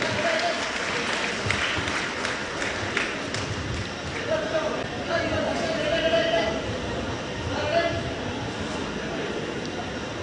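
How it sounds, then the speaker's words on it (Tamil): Loud applause fills the hall at a Tamil astrology conference, a continuous crowd clapping with someone talking over it throughout. "பலத்த கரகோஷம்."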